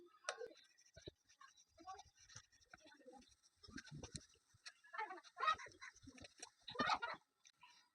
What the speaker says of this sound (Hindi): इरेज करते हैं, ठीक है।